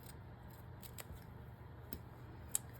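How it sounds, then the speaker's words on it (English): Scissors snip through a piece of paper ruffle, giving a few faint, sharp clicks spaced apart over a quiet background with no talk. "Let's just cut a piece of this off and see."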